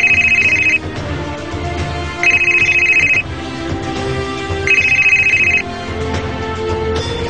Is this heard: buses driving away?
no